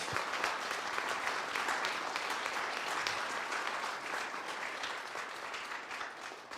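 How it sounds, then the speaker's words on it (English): An audience gives a round of applause for volunteers at a spiritual community gathering, a steady, moderately quiet roll of clapping that carries on evenly before tapering slightly. "Let's have a round of applause for all our volunteers."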